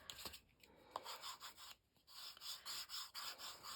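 A Cricut scraper rubs across vinyl laid on a wooden album cover, giving short, close, scratchy strokes in an uneven rhythm with brief pauses.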